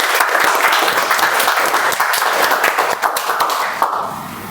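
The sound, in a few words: applause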